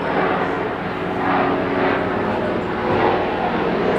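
A Black Hawk helicopter drones loudly overhead in a city, its engine a steady, heavy rumble that swells slightly and holds throughout.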